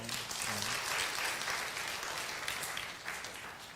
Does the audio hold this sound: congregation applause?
yes